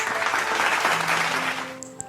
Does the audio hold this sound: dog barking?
no